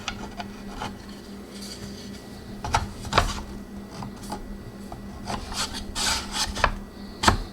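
A serrated 12-inch bread knife saws through a loaf in a quiet indoor setting, a soft scratchy rasp with a few sharper crunchy strokes, close up and without speech.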